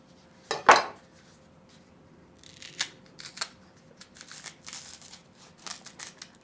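A knife cuts green bananas into thick pieces: a sharp, close crunch near the start, followed by lighter scattered clicks and scraping taps from the blade and board, with no talking.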